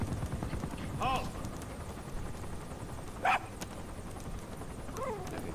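A dog in the video game Metal Gear Solid V: The Phantom Pain gives three short, separate barks and yips spread across the clip, over steady game background noise.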